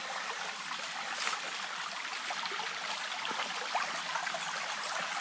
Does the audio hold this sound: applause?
no